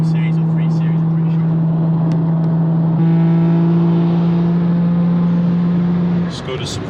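A Skoda Superb sweeping past at high speed on the Autobahn, a strong steady engine-and-road drone that shifts in pitch midway and fades near the end, heard from inside a moving car.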